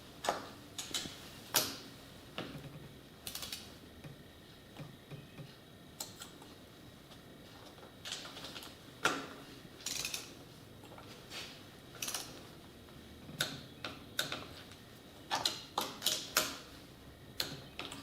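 A torque wrench clicks in quick, irregular bursts while tightening cylinder head studs on a Ford 8N tractor, the sharp ratcheting ticks sitting over a quiet workshop background.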